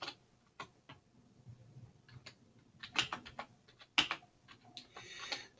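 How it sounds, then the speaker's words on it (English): Someone types a note on a computer keyboard, producing quiet, irregular clicking keystrokes in small bursts with short pauses, close and alone. "You right click and you make a new annotation. And you type your note."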